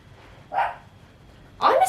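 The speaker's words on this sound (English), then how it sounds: "Sorry about Lulu barking in the back." A pet dog barks twice in the background indoors, two short sharp barks about a second apart, under a quiet room tone.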